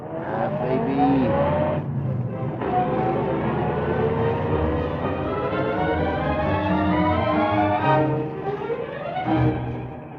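A taxi engine drones steadily through city traffic as a radio-drama sound effect, its pitch rising and falling with gear changes, loud and continuous with brief dips.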